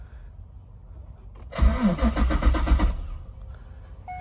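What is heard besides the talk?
C5 Corvette Z06 engine being cranked to cycle oil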